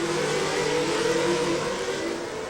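Formula 3000 race cars roar around Monaco, a loud, continuous high engine howl that stays close and constant throughout.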